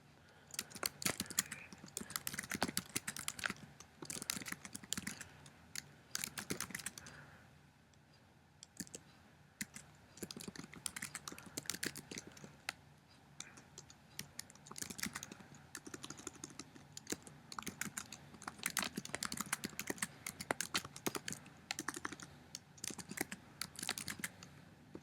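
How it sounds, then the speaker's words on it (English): Typing on a computer keyboard, steady bursts of quick close key clicks with a brief pause midway, quiet and without speech. "now I'm going to simply type in my directions"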